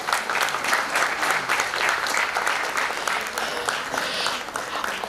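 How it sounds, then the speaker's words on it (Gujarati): Steady, dense applause from a school audience at an award ceremony honouring top students, continuous clapping throughout with no break. "તાળીઓ પાડો બધા જ"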